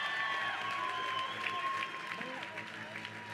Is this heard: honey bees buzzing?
no